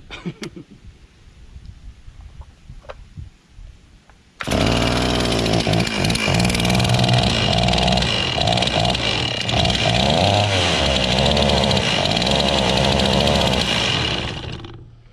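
A Stihl chainsaw fitted with a Chinese replacement carburetor, after a carb adjustment: faint idle ticking, then the engine suddenly roars to full throttle and holds a loud, steady buzzing whine before easing off at the end.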